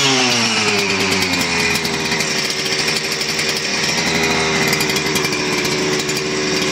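A STIHL FS 400 brushcutter engine runs loud and close in a continuous, buzzing two-stroke roar with a steady rhythm and no voices.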